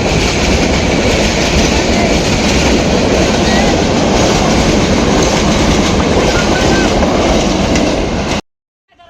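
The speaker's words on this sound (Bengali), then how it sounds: "ট্রেন যাবে একটু পরে এখান দিয়ে, গেট লক করে দিছে" A train rolls past a railway level crossing in Sitakunda, loud and close, with a steady clattering roar that fills about eight seconds before cutting off abruptly.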